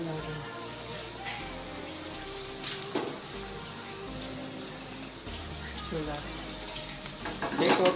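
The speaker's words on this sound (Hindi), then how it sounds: "अब हम हमारे जो बॉल्स हैं मैगी चिकन चिली मिली बॉल्स को डीप फ्राई कर लेते।" Maggi chicken chilli balls deep fry in hot oil in a kadhai, making a quiet, continuous bubbling sizzle with occasional louder crackles toward the end.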